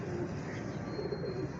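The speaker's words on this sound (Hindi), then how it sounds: "हम इन कबूतरों को बाहर निकालने लगे हैं" Soft pigeon cooing close by, a low murmuring call repeated over a quiet, slightly noisy background.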